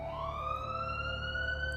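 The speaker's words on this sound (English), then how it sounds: "Following close came a set of police cars that were in hot pursuit. Their lights buzzed on and off with an ear-splitting siren following after." Police car siren in a city car chase, a loud continuous rising wail with harmonic overtones, heard alone and close.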